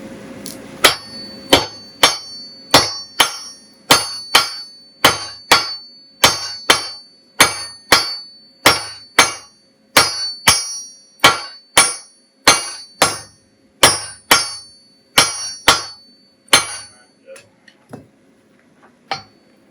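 A heavy hammer strikes metal again and again in a steady rhythm, each blow ringing sharply, about two dozen hits before a few lighter taps at the end.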